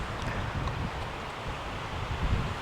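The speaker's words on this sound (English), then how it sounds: "Really windy." Strong wind sweeps across an open field beside a forest trail, a continuous roaring buffet with heavy low rumble striking the microphone, no voices.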